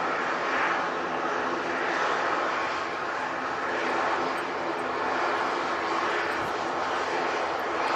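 An airliner taking off and climbing out toward Dublin, a broad steady engine roar that holds at a distant, even level throughout without voices.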